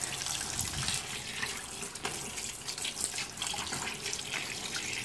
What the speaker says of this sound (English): I can also see the water splashing everywhere